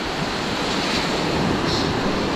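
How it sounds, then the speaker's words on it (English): Heavy ocean surf on Bavaro Beach in Punta Cana, a continuous loud rushing roar of breaking waves mixed with wind noise, no voices. "now we've been having some pretty heavy surf all along here"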